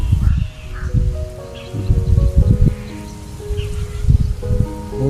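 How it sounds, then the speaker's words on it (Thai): Leaves rustle steadily in a breeze outdoors near banana plantations in rural Surin, Thailand, with soft gusts rising and falling and faint bird or insect sounds in the background. "ลมพัดเย็นๆ"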